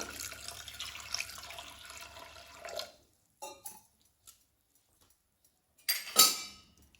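Water pours into a metal pressure cooker pot for a few seconds, followed by quiet clinks of cookware and a final splash.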